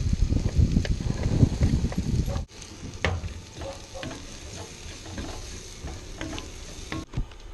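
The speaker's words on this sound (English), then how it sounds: "we're getting a good bit of colour on those onions, covered in those beautiful spices as well" Onions frying with chili, turmeric and salt, stirred in a pan: loud sizzling and scraping for the first two and a half seconds, then a softer steady sizzle with occasional utensil taps.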